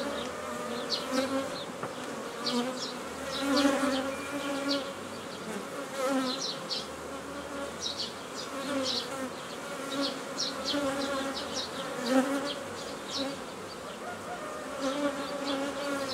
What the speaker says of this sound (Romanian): Eliberăm zona de albină